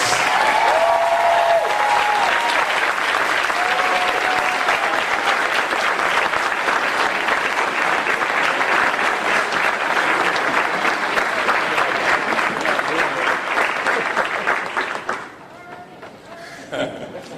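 A large conference audience of the National Council of La Raza applauds to welcome Senator Bernie Sanders, steady loud clapping sustained for about fifteen seconds before cutting off abruptly into quiet, with a few voices briefly heard.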